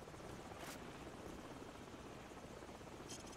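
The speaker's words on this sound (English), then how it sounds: "Hold on, the helicopter's back." A helicopter in Call of Duty 4: Modern Warfare gives off a steady whirring rotor drone, moderately loud and continuous, with a couple of brief bright hisses layered over it and no speech.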